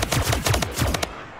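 Rapid bursts of gunfire from a weapon in the video game Splitgate, about six close, punchy shots in quick rhythmic succession, then a short fading tail.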